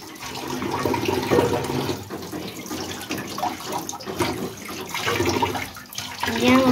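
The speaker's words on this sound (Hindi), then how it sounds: "यहाँ चिकन धो रही है।" Chicken is rinsed under running tap water in a village kitchen while preparing for Eid: a steady, moderately close splashing stream with uneven gushes, with voices talking faintly underneath.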